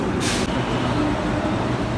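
A Delhi Metro train rumbles steadily inside a metro station, a loud continuous low roar with a brief hiss early on and no talk.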